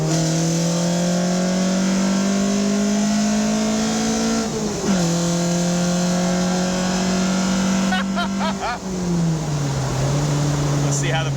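A 1976 Alfa Romeo GTAm track car accelerating hard through the gears, its loud engine note rising steadily, dropping briefly at each upshift, then climbing again, with a short crackle near the end.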